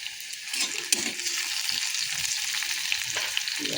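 Onions frying in a pan, a close, bright continuous sizzle with a few soft stirring knocks and scrapes scattered through it, steady in loudness and with no voices.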